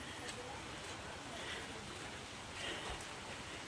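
Steady rain falls on a road in a broad, even hiss that stays faint and constant throughout, with a faint murmur of voices underneath.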